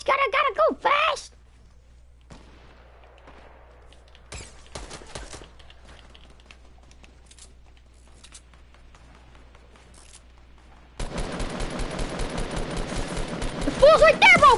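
Gunfire in the Fortnite video game: a short burst of shots at the start, then quieter scattered sounds, before a sustained rapid stream of loud automatic fire takes over near the end, with voices over it.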